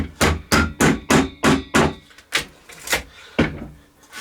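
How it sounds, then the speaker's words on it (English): Hammer tapping 1.5 inch brad nails into a wooden weaving loom frame, a steady run of sharp close knocks, then a few slower, softer blows. "I'm just going to bend these nails into place"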